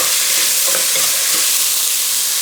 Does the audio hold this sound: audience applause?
no